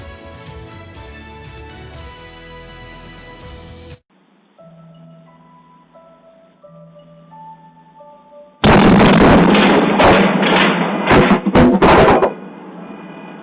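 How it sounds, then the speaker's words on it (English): A loud, close burst of explosions, dense and sharp for several seconds, follows a musical news intro; the blasts come from a news report on an explosion that blew people out of bed. "Oh my God, another explosion."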